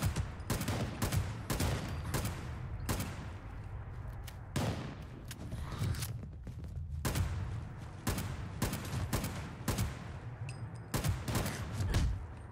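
Repeated bursts of gunfire from Fallout 76 during a Brotherhood of Steel encounter, loud, close sharp cracks in irregular volleys and rapid strings across the whole stretch with no talking.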